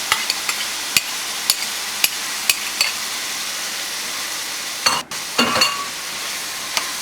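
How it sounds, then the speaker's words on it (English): Chopped garlic and onions sauté in a pan for stuffed manicotti, a soft, steady sizzle under a run of evenly spaced utensil taps and scrapes, with a louder stirring clatter near the end. "And you're going to stir it around."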